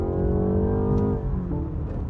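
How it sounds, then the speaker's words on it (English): A BMW 330i with the B48 four-cylinder engine accelerates on a wet road, a steady, loud engine drone with rising harmonics sustained for about two seconds and no talking. "this engine actually is the B48. So this is the 4-cylinder version of BMW."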